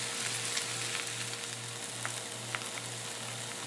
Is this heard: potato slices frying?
yes